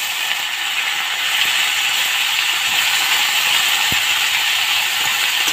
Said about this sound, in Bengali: এটা দিয়েও আমি একটু ভেজে নেব।